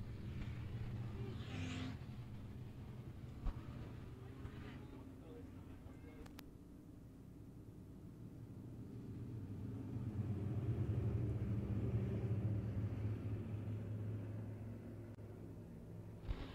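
Race cars on a dirt track, a distant low rumble of engines that swells and fades as the pack circles, steady and muffled throughout.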